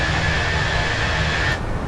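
Loud, steady roar of Fenix airliner engines in flight in Microsoft Flight Simulator, a continuous broadband rumble and hiss that holds level throughout, with no talking.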